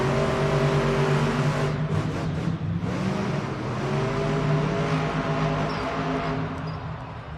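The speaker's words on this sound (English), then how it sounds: "we wait for our trucks to pull to the starting lines" Monster truck engines at a Monster Jam arena event in Fargo, North Dakota, rumble loud and steady at the starting line, with throttle rising and falling amid crowd noise and arena echo.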